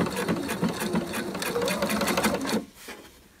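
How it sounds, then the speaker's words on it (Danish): A sewing machine runs a fast continuous burst while topstitching trousers, a close, dense mechanical chatter lasting a few seconds before stopping abruptly. "Og så syr jeg en sådan 2-3 mm pyntestikning her."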